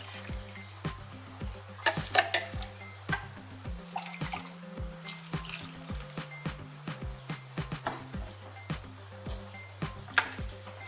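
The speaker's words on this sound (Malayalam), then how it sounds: "കുറച്ച് വെള്ളം കൂടെ ഒഴിച്ച് നല്ലപോലെ കലക്കിയെടുക്കാം." After water is poured in, kovakka theeyal curry is stirred in a pan, giving soft, rhythmic liquid taps and drips that repeat evenly over a faint, steady hum.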